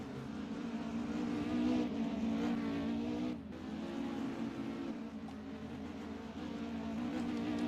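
Stock cars race around a dirt track at a season finale, a distant buzzing engine drone with shifting pitch as cars circle, fairly faint with no talk.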